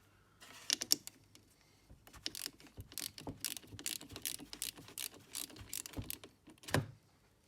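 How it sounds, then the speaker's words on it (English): Loosening the 10mm battery terminal nut on a 2012–2019 Ford Kuga Mk2 with a hand tool: close, quiet clicks, taps and scrapes of metal on metal in irregular bursts, with no talking. "Remove this, loosen this 10mm here."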